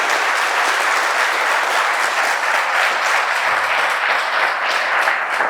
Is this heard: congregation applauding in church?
yes